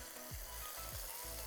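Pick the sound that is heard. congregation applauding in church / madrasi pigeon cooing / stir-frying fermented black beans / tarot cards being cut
stir-frying fermented black beans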